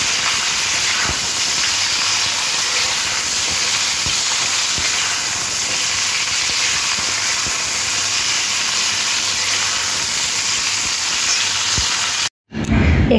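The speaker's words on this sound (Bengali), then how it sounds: "এবারে ডাঁটা আর আলুটা তেলের মধ্যে একটু ভাজতে হবে" Sajne drumsticks and potato pieces fry in hot oil, giving a steady, dense hiss that runs unbroken for the whole stretch apart from one brief dropout near the end, with no voices.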